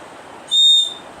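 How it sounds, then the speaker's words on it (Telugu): A toy whistle gives one short, shrill, steady blast lasting under half a second, loud and close against a quiet room background. "సో నెక్స్ట్ అయితే ఇది విజిల్ అనమాట."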